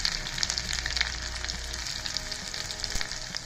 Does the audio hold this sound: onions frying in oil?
yes